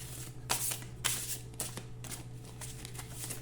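Oracle cards are riffled and shuffled in several quick bursts, crisp and close against a steady low hum, with no talking.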